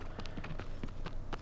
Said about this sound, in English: Aggro is the name of the horse.